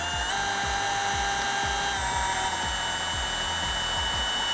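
Power drill boring rivet holes through a leather motorcycle bomber seat: a steady high motor whine with a repeating rhythmic grinding chug as the bit cuts, close and continuous throughout.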